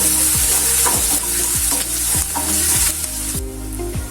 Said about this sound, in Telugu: ఇప్పుడు మనం చికెన్ని యాడ్ చేసుకుందాము.